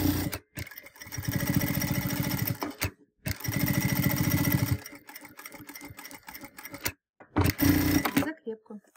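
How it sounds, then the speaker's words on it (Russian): A sewing machine stitches a zip welt pocket in several close, loud bursts of rapid, even stitching separated by short pauses. "Я начинаю на сантиметр выше линии листочки и прокладываю строчку."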